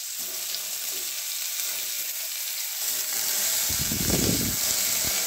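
Radish and taro pieces drop into hot oil, setting off a steady broadband sizzle that swells louder toward the end, with a brief burst of stirring or bubbling near the close.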